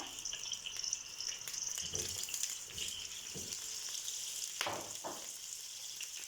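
Meat sizzles as it fries in a pot alongside green beans, a steady close hiss with occasional stirring scrapes and clunks, no voices.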